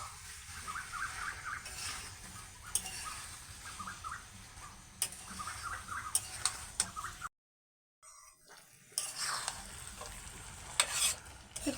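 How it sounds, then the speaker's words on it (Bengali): Jackfruit and potato pieces fry in a spiced pan, sizzling steadily while a spoon scrapes and taps through them in repeated strokes. The sound drops out briefly partway, then the frying and stirring resume. "আবারও আমি এই কাঁঠাল আর আলুটাকে এই মশলার সাথে ভালো করে নেড়ে চেড়ে একটু কষিয়ে নেবো"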